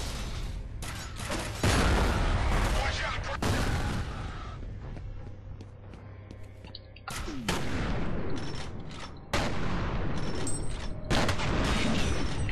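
Bursts of gunfire from the first-person shooter F.E.A.R., loud and close, with several rapid volleys separated by short pauses and booming impacts.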